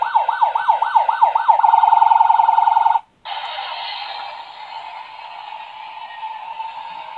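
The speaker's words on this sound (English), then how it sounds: "We got this police truck, I guess. It makes sounds like it." A toy police truck's electronic siren wails loud and close, first a rapid warbling yelp, then a steady tone, cutting off briefly before a rougher, buzzier siren tone continues.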